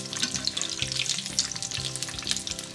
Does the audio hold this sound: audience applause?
no